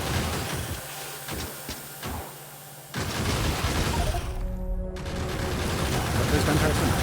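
Gun turrets in the game Factorio fire at biters, a dense burst of rapid automatic gunfire and booming impacts that sits loud and continuous across the scene, with the shooting thickening midway through.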